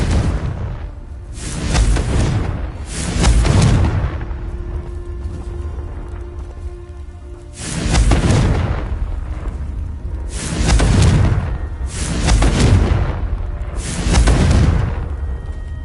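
Repeated booming fire-blast explosions from spells in Hogwarts Legacy, six loud bursts in two clusters with a deep rumble between them.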